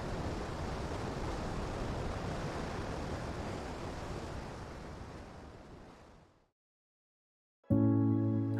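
Ocean surf washing onto a wild shoreline beside a night campsite on Maine's east coast, a steady roar of breaking waves with wind that fades out into silence, then a brief tonal sound at the end.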